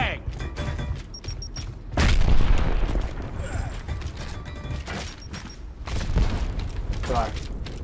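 A frag grenade detonates in a first-person shooter match, a sudden loud broadband blast that swells and rumbles before further bursts of gunfire and mechanical clatter, with players talking throughout.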